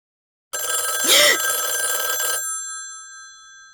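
A loud, close telephone bell rings in one sustained burst, then its metallic tone fades away into silence.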